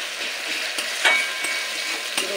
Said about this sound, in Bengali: এবার আদা রসুনের পেস্টটাও ভালো করে তেলের মধ্যে কষিয়ে নেব